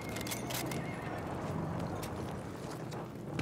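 In the video game Battlefield 1, a horse whinnies over clip-clopping hooves and mechanical battle noise. The sound is moderately loud and steady throughout.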